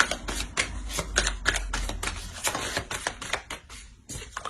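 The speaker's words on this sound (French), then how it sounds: "Je vais rajouter une carte sur le 9 d'épée." Tarot cards shuffled, drawn and laid down during a reading: a quick run of sharp papery snaps and taps, close and fairly loud, with no voice.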